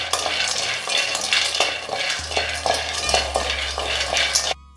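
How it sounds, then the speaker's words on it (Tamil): Almonds dry roast in a pan and are stirred, giving rhythmic close scraping and rattling of nuts against the metal over a light sizzle, about a stroke every half second, then a sudden stop. "பாதாம் ஒரு 3 நிமிஷம் வறுத்துக்கிட்டேன்"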